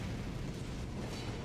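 A cannon shot strikes the player in Elden Ring, a loud rumbling boom that fills the whole short moment with a dense, sustained blast and no talk.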